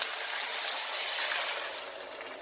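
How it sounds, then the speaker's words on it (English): Two cups of water pour into a stew pot of baked beans that has begun to stick on the bottom, a steady, close hissing gush that tapers off toward the end. "I'm going to put in 2 cups of water"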